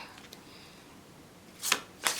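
Two quick bursts of tarot cards being shuffled near the end, crisp riffling flutters about a third of a second apart after a quiet start.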